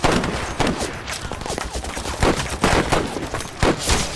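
Sustained machine-gun fire in a battle scene from a Chinese war film about anti-Japanese guerrillas, with dense, continuous bursts and heavy reports that hold loud throughout, with no voices.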